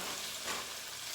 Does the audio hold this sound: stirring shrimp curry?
yes